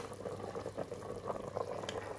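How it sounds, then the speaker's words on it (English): Quiet, steady bubbling of stock at a low boil in a multi cooker, a soft continuous burble with no voices. "Now that the stock is boiling, we'll put in our beef."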